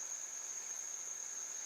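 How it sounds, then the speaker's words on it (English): Crickets chirp at night in a steady, continuous high trill, unbroken and fairly faint, with no other sound around it. "I am so sick of these crickets"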